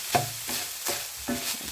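Ground beef sautéed in a pan with beef stock cube, heard as four rhythmic scraping stirs of a spatula over a soft sizzle, close and fairly quiet, with no talking.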